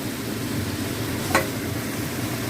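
Marinated chicken sizzles steadily in a hot pan, with one brief scrape of stirring partway through.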